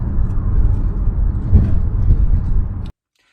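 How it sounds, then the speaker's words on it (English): A loud Cadillac engine rumbles steadily while driving on a road, a heavy, truck-like drone heard from inside the car that cuts off abruptly near the end. "I can't believe how loud this thing is. My Cadillac sounds like an old truck."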